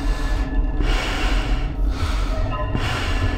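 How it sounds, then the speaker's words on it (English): Heavy breathing behind the mask in the video game Five Nights at Freddy's 2: loud, close, rhythmic snorting breaths, about three rasping cycles in a row, with no speech. "Your heavy breathing is not going to help you."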